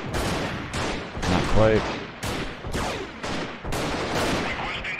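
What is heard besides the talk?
gunfire in video game Freeman Guerrilla Warfare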